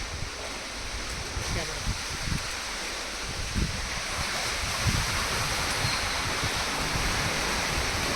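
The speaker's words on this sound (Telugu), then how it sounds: "మొత్తం అలలు వచ్చేస్తున్నాయి" Sea waves surging into a seaside temple: a steady, loud wash of churning surf and rushing water fills the whole clip, with a continuous roar and occasional louder swells, heard close by.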